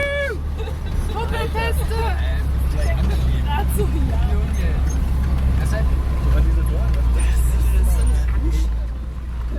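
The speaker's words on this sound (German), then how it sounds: "bis wir plötzlich die asphaltierte Ader in der Landschaft verlassen und querfeldein übers offene Gelände heizen" Russian UAZ and Japanese off-road vehicles driving cross-country over open Gobi terrain: a loud, steady low engine drone with rattling body noise throughout, heard from inside, under continuous talk.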